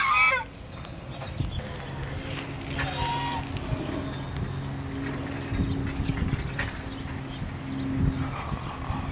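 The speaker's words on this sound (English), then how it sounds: "gansos, geese, ducks, patos" Geese and ducks honk repeatedly at a county fair, nearby and fairly loud, with hoof-like clopping and fairground background noise throughout.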